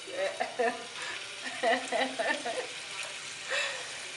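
Food frying in a pan sizzles softly and steadily in a home kitchen, with occasional stirring clatter, while a person talks over it.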